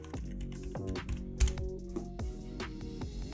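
A password is tapped out on a computer keyboard at a Linux terminal: a short run of quiet, close, irregular key clicks with no voice.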